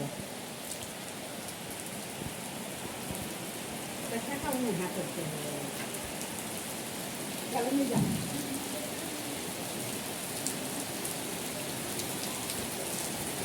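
Steady heavy monsoon rain in the Konkan countryside hisses and patters throughout, with a couple of faint muffled sounds rising briefly in the middle.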